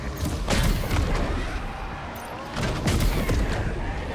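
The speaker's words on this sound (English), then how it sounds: "These underwater explosions look really cool too." Deep muffled booms from underwater explosions in the video game Death Stranding 2, two heavy rumbling bursts roughly two seconds apart, each swelling loud and low then fading into a murky wash.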